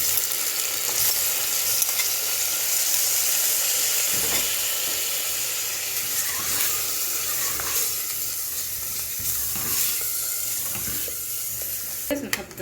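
Chicken pieces hit a hot pan with garlic and sizzle loudly, a dense steady hiss of frying with occasional stirring scrapes throughout, close and continuous, no voices.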